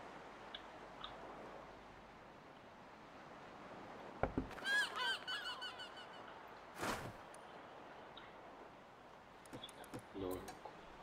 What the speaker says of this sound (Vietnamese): Chim đúng không?